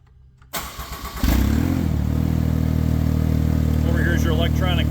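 A Ventrac 45RC remote-controlled tractor engine cranks briefly, catches and settles into a loud, steady running drone, with a short bit of talk near the end.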